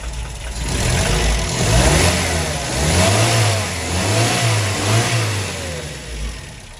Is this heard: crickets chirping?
no